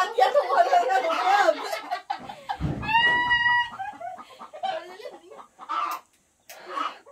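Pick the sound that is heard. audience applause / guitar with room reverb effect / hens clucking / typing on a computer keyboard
hens clucking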